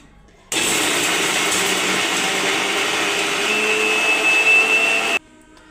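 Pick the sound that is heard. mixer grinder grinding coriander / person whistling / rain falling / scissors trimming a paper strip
mixer grinder grinding coriander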